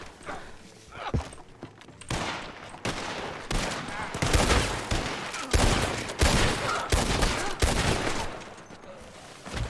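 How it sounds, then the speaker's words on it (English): Rapid bursts of gunfire in the RedM Red Dead Redemption 2 roleplay game, a loud dense fusillade of repeated shots from someone shooting up in the hills, with hoof-like clatter mixed in. "There's one up in the hills shooting."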